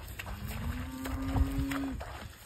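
A cow in a field gives one long, clear moo that holds a steady pitch, heard from a moderate distance against quiet outdoor background noise.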